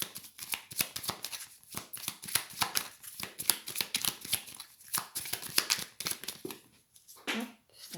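Tarot cards being shuffled by hand, a steady run of quick crisp riffling snaps and flutters, close and fairly soft, with a brief pause near the end.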